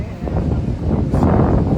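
Wind blows outdoors as a loud, gusty rumble buffeting the microphone, rising and falling over a couple of seconds.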